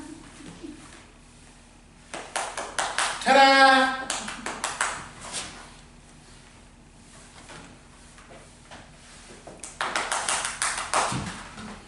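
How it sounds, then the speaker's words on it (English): Hands clap in a short burst of loud, quick claps amid a quiet scene, with scattered taps before and a second round of clapping later; a voice speaks briefly. "Clap."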